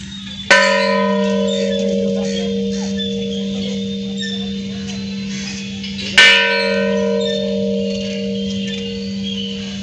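A large bell at a Shiva temple in Pune struck twice, several seconds apart, each strike ringing out loudly and humming on in a long, sustained decay.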